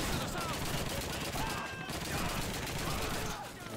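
Dense gunfire from a World War II battle in Call of Duty 2, overlapping shots crackling steadily for the whole span, loud and busy with distant and near bursts blending together.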